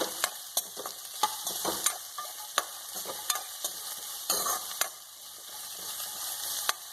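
Chopped breadfruit is stirred in a hot frying pan. A soft continuous sizzle runs under sharp, evenly spaced clicks and scrapes of a spatula against the pan, heard close with no talking.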